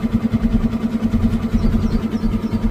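A vehicle engine running on a narrow, single-lane ghat road, a loud, close, steady throb with a rapid regular pulse and no voices over it.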